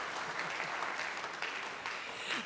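Applause for speaker Hans-Jörg Luzi at the opening of the Wiga 2023 fair: a crowd claps steadily, as a dense, even patter with no distinct voices, fairly soft and at a distance.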